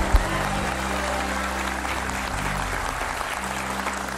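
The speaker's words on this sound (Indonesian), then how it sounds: "Luar biasa, tepuk tangan buat dia." An audience applauds on a dangdut television show, a steady, moderately loud patter of clapping that runs throughout, with a low hum underneath.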